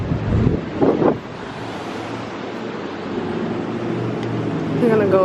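Ocean surf on the beach at Old San Juan, Puerto Rico, makes a steady rushing wash mixed with gusty wind buffeting the microphone. A voice speaks briefly near the start and again at the end.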